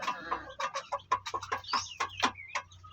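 Native chickens cluck close by in a quick, uneven series of short calls over a low background hum, with no talk.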